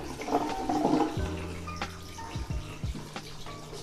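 Clean water pours and splashes steadily while rinsing developed C41 colour negative film at home, with small knocks and sloshes of the tank, close and clear without talk.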